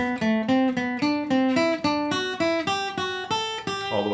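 An instrument plays an ascending exercise in thirds, a steady run of about a dozen evenly spaced harmonic notes stepping upward, close and clear with no voices.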